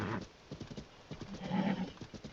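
Horse hooves clip-clop in a steady rhythm as a mount trots along in Zelda: Tears of the Kingdom, the in-game footfalls close and moderately loud with a faint snort near the end.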